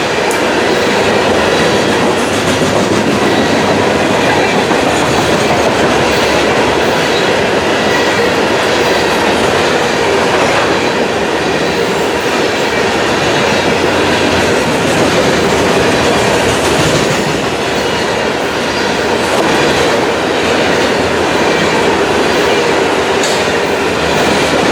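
A train rolls past at night on Florida's SunRail commuter corridor, a loud, continuous rumble of wheels on rail with steady clatter and faint squeal, close by and sustained throughout, with no voices.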